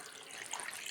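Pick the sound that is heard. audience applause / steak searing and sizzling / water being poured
water being poured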